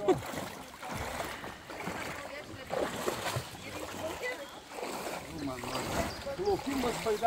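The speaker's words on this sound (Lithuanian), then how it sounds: "Naujas plaukimas baidarėmis." Kayaks paddle on water, with uneven splashes and water movement close by. Soft wind noise runs underneath and people talk over the paddling.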